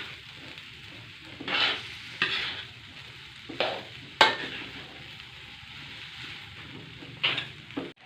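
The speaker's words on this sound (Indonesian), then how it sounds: "lalu kita aduk terus biar bercampur sama daun mengkudunya" Fried rice with wilted noni leaves being stirred in a hot pan, with a soft continuous sizzle broken by about six distinct scraping strokes of the spatula, close and fairly quiet, with no talking.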